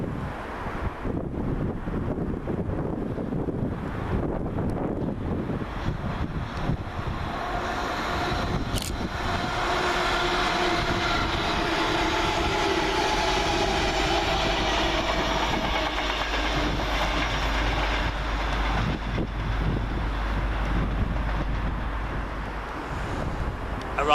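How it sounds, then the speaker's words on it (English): A Hull Trains Class 802 unit, 802-304, passing through Peterborough station on a London King's Cross to Hull service, with a steady rolling rumble and wheel clatter throughout, over wind buffeting the microphone. "coming the opposite way for Hull trains is 802-304, working 1H04 from London King's Cross to Hull"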